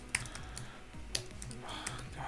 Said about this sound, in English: I'm typing this so badly.